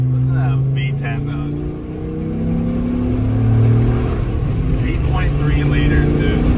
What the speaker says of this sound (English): Listen to that V10 though.